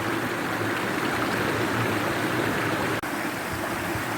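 Stream water rushing steadily along Greenfield Brook in the Peak District, a loud, constant broadband flow of small cascades heard close by with no voices.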